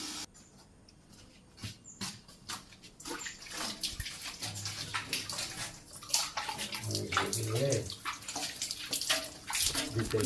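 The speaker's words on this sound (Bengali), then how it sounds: "মোটর সুইচ দিয়ে আছে, এদিক থেকে জল নিতেছি।" Water from a motor pump runs and splashes in a Bangladeshi village home, a steady gushing stream with scattered clatter and handling noises, fairly faint.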